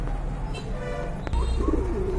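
A pair of racer pigeons coo softly nearby, with low throaty calls over a background hum and a sharp click partway through.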